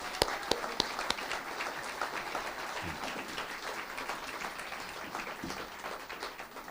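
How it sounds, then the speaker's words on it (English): An audience applauds students at a school event, a scattered, moderately distant clapping that starts with a few sharp claps and settles into a steady, thinning round. "give them a round of applause"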